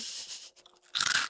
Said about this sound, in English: I crunched that fully into the microphone, not expecting it to be that crunchy.